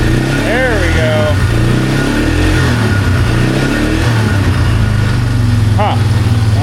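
Polaris Magnum 330 ATV engine with hard-start trouble, running loudly close by with a steady low throb and short revving rises, while someone talks over it.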